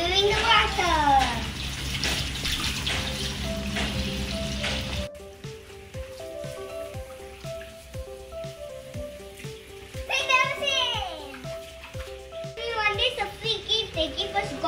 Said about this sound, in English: we are filling the water